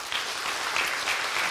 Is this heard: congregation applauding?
yes